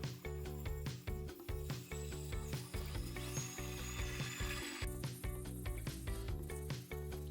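Small rotary tool with sanding attachments buffing a scratched laptop cooling radiator, a continuous close whine with rapid rhythmic chattering pulses throughout and a brief higher squeal midway.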